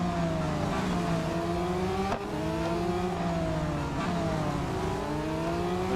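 Race car engines in Real Racing 3 drone continuously and loudly, pitch rising and dropping through gear changes as the cars overtake during a lap, with a short break in the sound near the middle.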